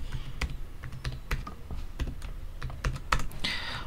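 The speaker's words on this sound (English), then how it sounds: "And I'm gonna enter my password" Someone types a password on a computer keyboard, producing a quick, irregular run of close, crisp key taps with no talking.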